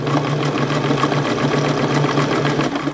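A sewing machine stitching a seam on a pullover top, a loud, close, continuous motor whir with a fast, even stitching rhythm throughout, no voices.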